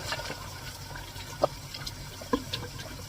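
Water boils on a stove to half-cook pulao rice for chicken biryani, giving a steady bubbling wash broken by a couple of sharp clinks.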